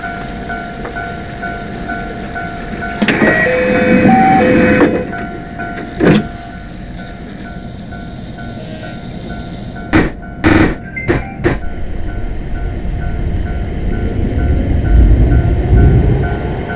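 A JR Kabe Line train departs for Hiroshima in a train simulation game, with a chime and door-closing sounds, then short bursts of mechanical noise and a rising rumble of the train pulling away.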